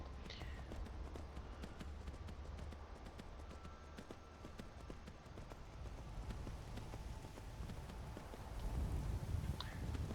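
Horse hooves clip-clop at a galloping pace in the Skyrim video game, a steady rapid patter of thuds running throughout over low rumbling ambience.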